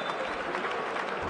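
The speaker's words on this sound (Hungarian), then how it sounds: "Taki helyett érkezik Valerio Bodon, nagy tapsot kap." Applause from a basketball arena crowd in Sopron as a substitute player enters the game, a steady dense clapping that fills the whole moment with no pauses.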